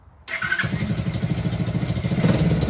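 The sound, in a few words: Chinese ATV quad engine starting up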